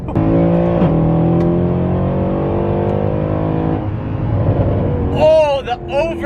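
A straight-piped Mercedes C63 AMG Black Series V8 is heard up close, a loud engine note held and then falling off on overrun, with rapid downshift blips and crackles near the end and a voice talking over it.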